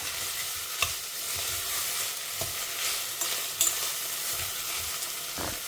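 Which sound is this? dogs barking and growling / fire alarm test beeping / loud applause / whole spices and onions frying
whole spices and onions frying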